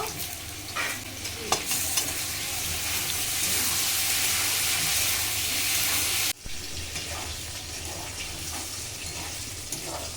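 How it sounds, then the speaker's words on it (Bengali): Pointed gourd and potato frying in goat fat in a pan, a loud steady sizzle with stirring scrapes and clatter, one brief cut near the end. "এই পটল ভাজার উপরেই দিয়ে দিচ্ছি আলু আলুটাও ভালো করে ভেজে নেব"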